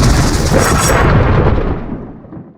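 A loud, sustained rumble of thunder crashes at once, then slowly fades out over a couple of seconds.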